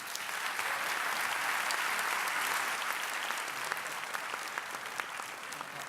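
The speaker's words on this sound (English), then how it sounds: "A round of applause, please." A conference audience at a Cannes Lions presentation gives a steady round of applause, a dense, even wash of many hands clapping throughout with no pause, moderately distant and filling the hall.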